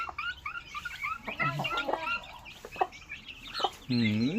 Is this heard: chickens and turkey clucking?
yes